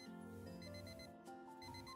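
A ringing alarm clock in the House Flipper 2 video game, a steady repeating electronic tone that carries on without pause and sits faintly in the mix.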